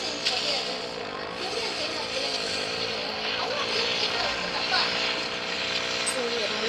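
A video-game motorbike strains to climb a hill, its engine holding a continuous whining drone with wavering pitch that rises and dips as it labours, steady and fairly loud throughout.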